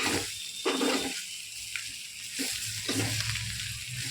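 Chicken frying in a pan with ginger garlic paste, salt, chili, turmeric and garam masala makes a close, steady sizzle, broken by several scraping bursts of stirring; nobody speaks.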